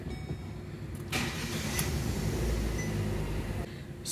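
A Chevrolet Onix engine is started in a mechanic's workshop after crankshaft and camshaft position sensor relearning; a loud burst of cranking leads into a rough, close idle rumble that settles after a few seconds.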